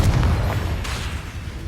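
A Confringo fire spell detonating in Hogwarts Legacy, a dull booming blast with a short rumbling tail that fades quickly, with no voices over it.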